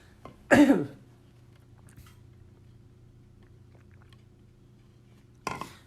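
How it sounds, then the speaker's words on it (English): One loud cough close by, then a long quiet stretch before a brief second cough or throat noise at the end. "I need to cough, and I'm drinking some tea"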